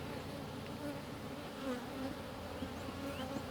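Dense, continuous hum of many honey bees buzzing around an opened hive during an inspection, steady and close with individual bees droning past.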